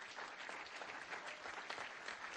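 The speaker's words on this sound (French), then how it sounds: "On peut applaudir François Fillon." Applause rises from an audience at a French employers' federation (Medef) event, a continuous wash of many hands clapping heard faint and distant, steady throughout with no talking over it.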